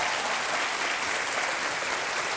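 Studio audience applause on a television quiz show, a dense, steady wall of clapping at even loudness throughout, with no voices over it.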